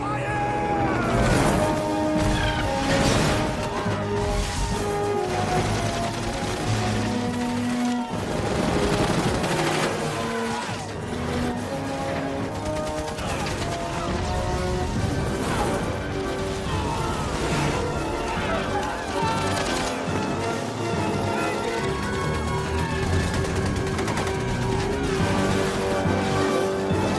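Battle gunfire rages in a film scene, with dense, continuous volleys and sharp bursts of shots and crashes over a backdrop of music, and voices shout through the chaos.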